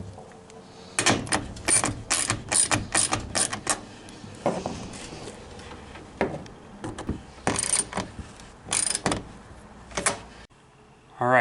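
Washers and nuts are threaded onto bolts to mount a backing plate for a 3D printer enclosure exhaust fan, making close metallic clinks, rattles and scraping bursts in an irregular rhythm with short pauses.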